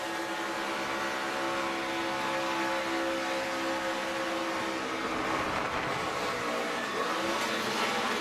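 NASCAR Truck Series trucks at Kansas Speedway roar through turns 1 and 2, a steady, loud, continuous engine drone with shifting harmonic whine as traffic passes, no talking.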